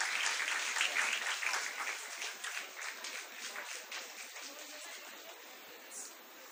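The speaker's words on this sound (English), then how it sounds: "A huge round of applause for Aditya Nayak." Applause for a student award recipient at a Class X achievers' felicitation ceremony, a steady audience-wide clapping that fades gradually over several seconds, with no talk.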